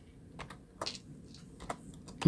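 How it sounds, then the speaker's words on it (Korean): Keys tapped on a computer keyboard while entering scenario values into a spreadsheet, in short irregular bursts of close, crisp clicks with pauses between them. "문제에 나와 있는 거 그대로 입력했습니다"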